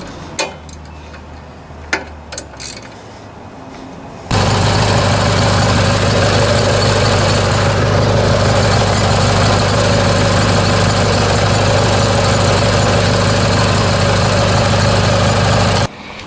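A Kohler Courage small engine starts after a few faint knocks and clicks, then runs at a steady, loud idle with an even ticking rhythm that continues unchanged until it suddenly shuts off at the end.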